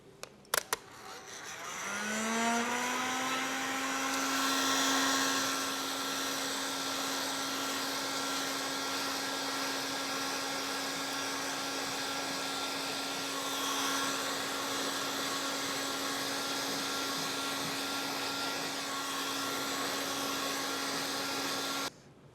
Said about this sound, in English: Now it's very important to keep the heat gun moving constantly to assure you don't burn or crease any of the tint.